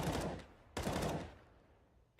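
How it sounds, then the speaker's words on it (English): Sporadic gunfire in a CS:GO match on de_mirage, two sharp loud bursts about three-quarters of a second apart, each trailing off into a fading echo. "Bit of sporadic gunfire here"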